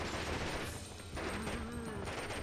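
Rapid bursts of gunfire in the zombie survival game Biohazard Outbreak, a steady loud barrage of repeated shots running through the whole stretch with a faint tone underneath.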